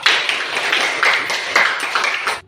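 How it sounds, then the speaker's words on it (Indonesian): Classroom applause for presenting student groups, a brief burst of many hands clapping close by, dense and uneven before it cuts off. "Kita kasih aplaus dulu untuk semua kelompok"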